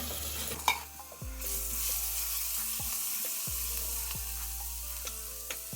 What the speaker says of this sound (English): Fry that for a few seconds